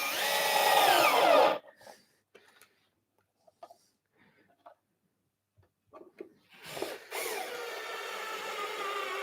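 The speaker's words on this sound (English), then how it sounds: "Now I'm going to put 4 screws in at the moment." A power drill drives screws into a wooden side table in a woodworking shop, with a loud whirring burst at the start, then a quiet gap with small handling knocks, then another sustained drilling run.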